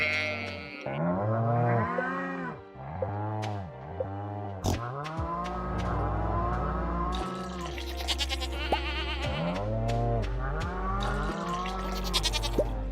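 Goats in the Stardew Valley farming game bleat repeatedly, a steady run of overlapping nasal bleats, loud and close with no talking.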